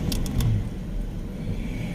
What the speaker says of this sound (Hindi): ये अपनी गाड़ी है